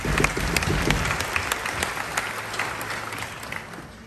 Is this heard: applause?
yes